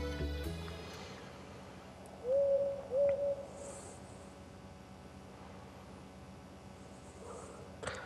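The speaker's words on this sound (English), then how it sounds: "you heard an owl sound" An owl hoots twice in the video game Stardew Valley at night, a soft double hoot near the middle of the clip over a quiet game background with faint ambient tones.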